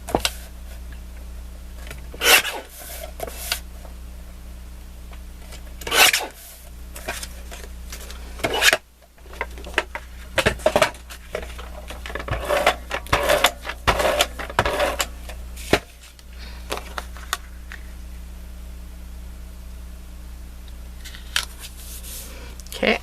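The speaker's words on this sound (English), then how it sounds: "And then cut this out." Scissors snipping card stock while making large handmade Christmas cards, heard as short irregular crisp cuts in bursts, close up, with quiet talk in between.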